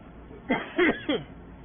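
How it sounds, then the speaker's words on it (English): A person coughs and splutters in three short, close bursts in quick succession, with nothing else heard around them. "Sorry if I cough and splutter about a bit"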